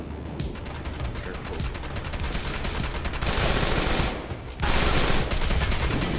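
Rapid automatic gunfire in the action video game Wanted Dead, a dense continuous fusillade of shots that swells louder in later bursts with a brief lull near the end.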